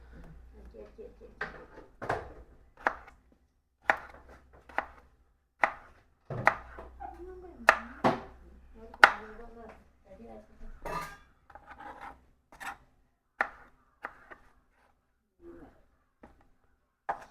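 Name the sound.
knife chopping fruit on a cutting board for juice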